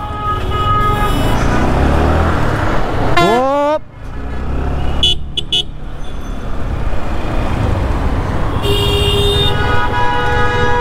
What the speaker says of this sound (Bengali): কেমনে হর্নটা মারছে